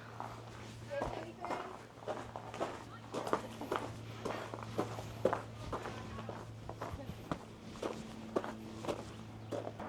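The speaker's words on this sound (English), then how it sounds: "I hear footsteps." Steady footsteps crunch along the Rock Island State Park dam view trail near the Collins River at a walking pace over a constant low hum, fairly close and moderately loud.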